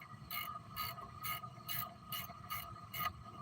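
A ratchet wrench fitted with a 13 socket turns a bolt while a car alternator is being changed, giving faint, regular clicking strokes about every half second.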